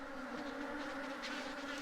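A honeybee swarm from outside, part of a merged colony with multiple queens, drones in a steady, dense buzz close to the hive, low and even throughout.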